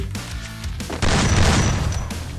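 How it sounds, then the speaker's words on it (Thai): A landmine blows up in the Free Fire battle royale game, one sudden loud blast that bursts out midway and decays into a rough, noisy rumble over the game's background sound. "มันวางกับระเบิดโคตรเหลี่ยมเลยฮะพี่"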